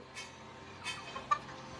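Domestic hens cluck in short, scattered bursts on a small poultry farm, heard faintly against a quiet background.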